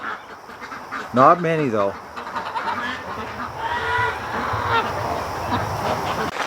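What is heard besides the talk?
ducks quacking in a barn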